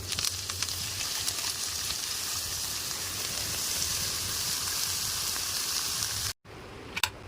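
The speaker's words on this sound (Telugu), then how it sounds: "మనం కట్ చేసి కట్ చేసి కడిగి పెట్టుకున్న తోటకూర దాంట్లో వేసుకుందాం" Washed, chopped amaranth leaves dropped into a hot tempering pan give a loud, steady sizzle and hiss that runs unbroken for several seconds, then cuts out abruptly before a faint crackle returns.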